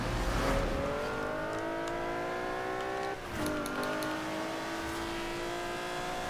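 A Cadillac XTS limousine racing an Audi RS4 in Forza Horizon 4, its engine holding a steady high drone with rising harmonics, briefly dipping at a gear shift before climbing again, loud and continuous.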